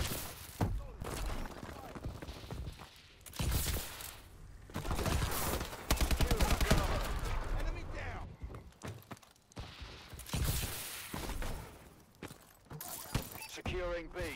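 A chaotic Call of Duty Advanced Warfare firefight, with bursts of automatic gunfire, impacts and shattering mixed into dense game noise, while a player talks over much of it.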